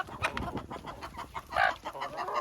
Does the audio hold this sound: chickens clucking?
yes